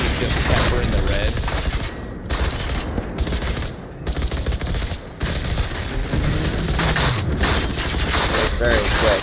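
Experimental M60 machine gun in the video game Generation Zero firing long, loud sustained bursts with brief pauses, rattling continuously over several seconds amid booming impacts.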